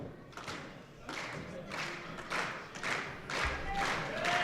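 Crowd at an indie wrestling show clapping in rhythmic bursts for wrestler Ben Boone, roughly evenly spaced waves of claps building slightly louder, heard at a moderate distance.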